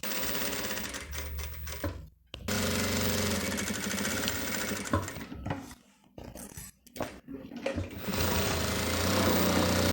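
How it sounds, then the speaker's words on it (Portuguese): A sewing machine stitches around the edge of a classic toiletry bag in a fast, loud mechanical whir, stopping briefly twice and then running on again close to the microphone. "eu vou começar daqui e vou contornar a costura."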